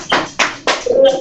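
An indoor audience at a seller training event claps in three sharp bursts, followed by a voice speaking.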